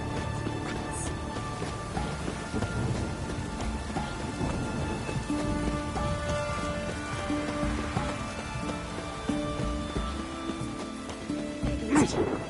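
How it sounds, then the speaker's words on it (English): Steady rain falls in a video game, a dense hiss of drops on surfaces with low rumbles of thunder running throughout and a brief sharper crack near the end. "It's raining, of course it's going to be."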